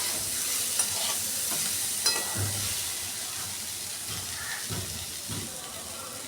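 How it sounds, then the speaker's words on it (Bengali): Vegetables and onion for a South Indian sambar are stirred in a hot pan, a steady sizzle with intermittent scraping strokes of a spoon, close and continuous with no talking. "একটু নেড়ে ছেড়ে নেব।"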